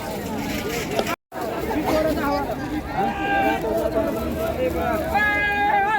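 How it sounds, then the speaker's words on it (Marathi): A packed Monday vegetable market in Kalamb town fills the air with a constant babble of many overlapping voices, close and busy, with brief nearby talk and a short dropout early on. "गर्दी तर खूप आहे मार्केटमध्ये अति गर्दी"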